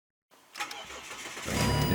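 A car engine starts up after a moment of silence, the cranking giving way to a steady, building idle that grows louder toward the end; no one speaks.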